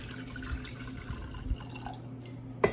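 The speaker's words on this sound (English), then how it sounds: "First we pour around 2 cups of water" Water is poured into a pot for an Ayurvedic immunity tea, a soft, steady trickle and splash running close by for a few seconds, with a brief louder splash near the end.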